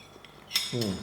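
A small spoon clinks against a dish while scooping a quinoa bake, two light metallic taps followed by a brief hum of voice nearby.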